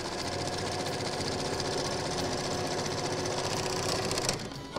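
A sewing machine stitches the final closing seam of a pillowcase made from worn-out jeans. Its close, rapid, rhythmic clatter runs steadily throughout and then stops abruptly at the end.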